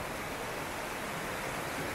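A river in Alaska rushes steadily as a broad, even wash of water noise, close and continuous, with no voices.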